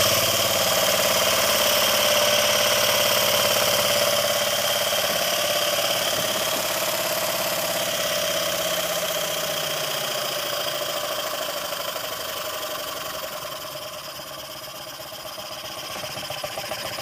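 A small vintage brass mill-type steam engine with a pin-spoke flywheel runs steadily on its own, giving a smooth, continuous mechanical hum with a faint rhythmic chuff, close up and fairly quiet.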